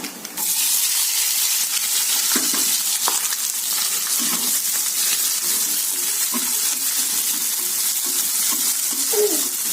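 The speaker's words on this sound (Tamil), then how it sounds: "இப்போ வெங்காயம் போடுறேங்க" Onions and dried red chillies sizzle steadily in hot oil for a chicken dish, a loud continuous frying hiss with faint stirring scrapes and no talking.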